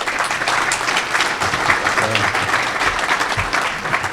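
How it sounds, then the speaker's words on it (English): A room full of people at an awards ceremony claps steadily for several seconds, a dense, even wash of applause. "Let's give him a round of applause"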